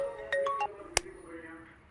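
A phone ringtone in a Tamil movie scene plays a short, near sequence of bright electronic tones, ending with a sharp click, with faint room sound after.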